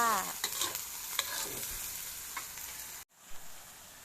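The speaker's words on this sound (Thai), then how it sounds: "ผัดหมูกับถั่วนะคะ" Pork and yard-long beans stir-fried in a pan: a bright, close sizzle with quick spatula scrapes for about three seconds, then a sudden brief drop before softer frying resumes, with no voices.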